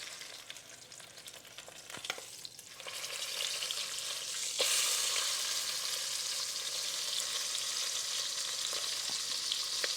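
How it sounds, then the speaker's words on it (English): Brisket edges searing in a hot pan give a continuous, moderately quiet sizzle that swells and grows brighter partway through, with a few faint knocks and no talking. "I'm going to kind of get the other largest edges brown a little bit."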